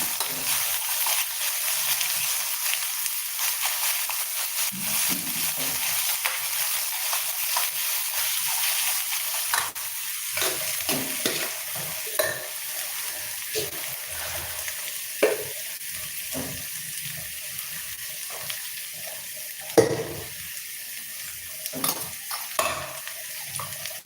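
Salted onions sautéing in a pan, stirred with a utensil: a faint continuous sizzle with irregular scraping stirs that grow busier and louder in the second half.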